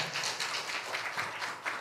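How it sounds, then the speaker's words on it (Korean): A church congregation claps to welcome a pastor during a Sunday service, producing brief, faint applause with a soft, uneven patter of hands. "우리 박수로 한번 맞이 한번 합시다"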